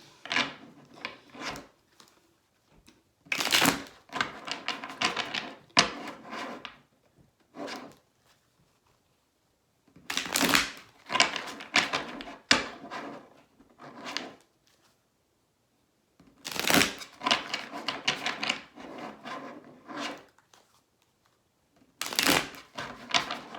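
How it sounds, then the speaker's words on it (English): Cards are shuffled repeatedly in close, riffling bursts of a few seconds each, separated by brief pauses of quiet. "Sorry for all the shuffling."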